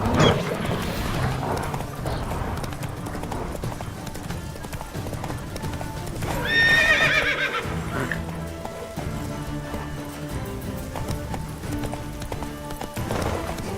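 Geralt's horse Roach gallops in The Witcher 3, a rapid rhythmic clip-clop of hooves under a game soundtrack and voices, with a brief whinny-like swell in the middle.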